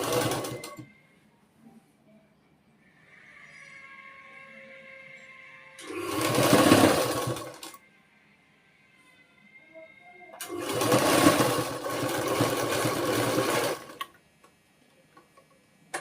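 A sewing machine stitches lace onto trouser fabric in two bursts of about two and three seconds, close and fairly loud, separated by quiet handling and a faint hum.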